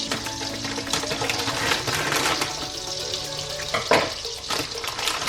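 Butter melting and sizzling in a hot pan on a stove over medium-low heat, a steady soft crackling hiss that carries through the whole stretch with a brief louder flare near the end.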